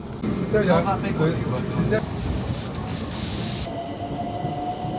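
A train rumbles steadily in the background while a voice speaks briefly near the start; a faint tone hums across the second half.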